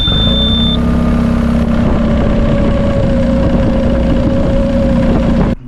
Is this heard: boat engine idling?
yes